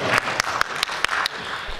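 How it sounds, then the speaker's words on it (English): Short burst of audience applause at a horror fest trivia event, heard as a handful of separate sharp claps spaced about a fifth of a second apart over light background noise, close and fairly loud. "Give this guy a round of applause."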